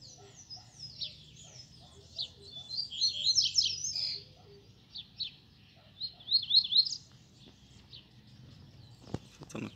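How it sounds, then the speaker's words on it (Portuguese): A caged coleiro seedeater sings in bursts of high, quick chirps and trills, with short pauses between phrases and a faint low background rumble; a brief knock sounds near the end. "É um pardinho cantor"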